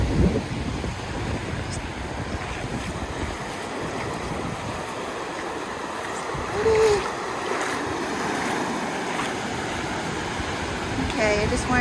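Surf washing onto a beach in breezy weather, a steady broadband rush with swells of louder wave noise, wind buffeting the microphone throughout.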